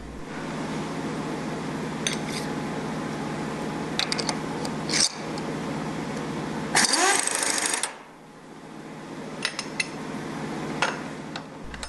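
A milling machine cuts with a 1-inch end mill held in the spindle. It makes a steady, close grinding whir with scattered metallic ticks, and a louder burst near the middle before it settles to a lower hum.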